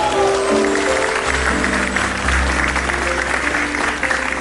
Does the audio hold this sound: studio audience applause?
yes